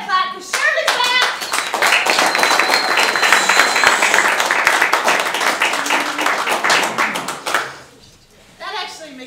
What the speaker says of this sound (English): Everybody clap for Shirley's back!